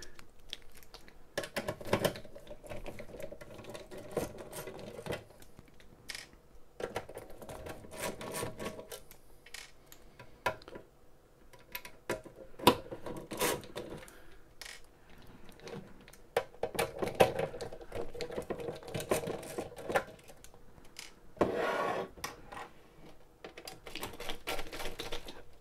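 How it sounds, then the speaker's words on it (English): Small screws are worked out of a cheap PC power supply casing, giving sparse, faint clicks and scraping taps in irregular bursts with quiet gaps between them. "now a million screws to get into the power supply"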